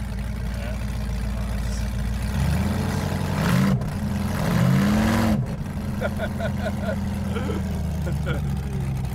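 A cammed 4.8L LS burnout truck engine on a Holley Terminator X runs on a hub dyno, a loud, lumpy idle rising through two short revs and settling back, with people talking over it.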